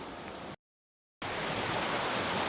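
Tenogtog waterfall at Mayoyao, Ifugao gives a dense, steady roar of falling water, loud and close. The roar cuts out briefly to silence and then returns even stronger, with no voices.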